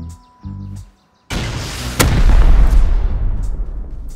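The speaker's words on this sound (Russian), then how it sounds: "Мы услышали взрывы" Video game explosions on a survival server: a short buzzing tone, then a sudden loud blast at about one second and a second heavier boom that rolls into a long rumbling decay.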